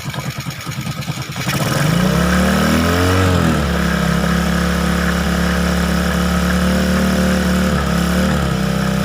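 A Honda XRM 125 motorcycle engine, freshly rebuilt with a CNC-bored cylinder and new piston, starts up and settles into a loud, steady close-range idle with a brief rev near the start.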